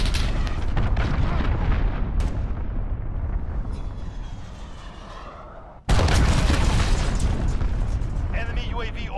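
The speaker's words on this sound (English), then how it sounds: "Allied cruise missile launched." A cruise missile strike in the shooter Call of Duty: Modern Warfare booms loudly, and a second heavy blast hits midway. Both explosions roll on with a long rumble, and game voice callouts sound over them.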